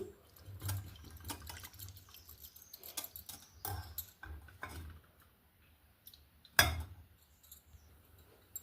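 Boiled tamarind pulp is pressed and strained by hand, giving soft wet squelches, drips and scattered patters close by, with one sharper tap of utensil on vessel near the end.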